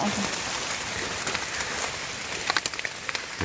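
Heavy rain falls outdoors while mushrooms are being gathered in a forest, a dense steady hiss with sharper drops tapping nearby surfaces toward the end.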